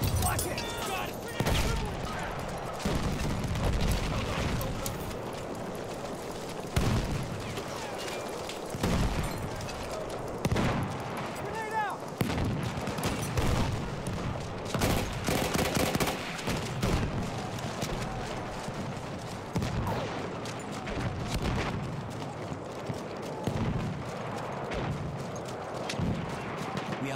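Battlefield 1 combat with near-constant rifle and machine-gun fire and booming grenade and artillery explosions, dense and loud throughout, with voices calling out now and then over the battle.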